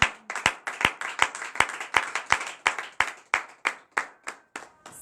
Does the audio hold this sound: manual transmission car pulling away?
no